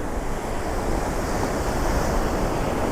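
Sea surf rolls onto a beach in a steady, loud wash of breaking water, with wind buffeting the microphone throughout and no voices.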